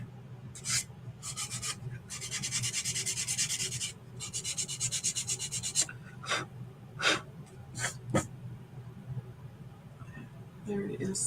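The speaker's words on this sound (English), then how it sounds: "you could sand the edges" Dry scratchy rubbing strokes from sanding the edges of a chalk paste transfer during a Chalk Couture tiered-tray craft, coming in quick repeated bursts that thin into a few short, separate scrapes.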